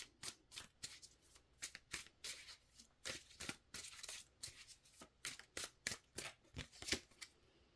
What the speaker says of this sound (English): Let's pull another card here.